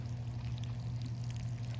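A new garden watering system runs water in a steady, continuous rushing pour with a low constant hum beneath it, moderately loud and unchanging throughout.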